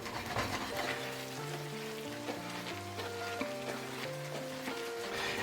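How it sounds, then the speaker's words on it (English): Mexican lager sizzles steadily as it deglazes a hot pan, a continuous hiss that plays under music. "So you want to scrape the pan up really well."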